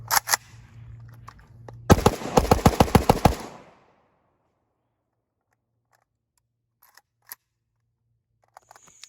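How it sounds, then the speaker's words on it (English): A Kalashnikov USA KR103 AK rifle fitted with an ALG trigger fires a rapid string of about ten loud, close shots in under two seconds, preceded by handling noise and followed by near silence with a few faint clicks. "Let's see what this ALG trigger in this AK103 can do."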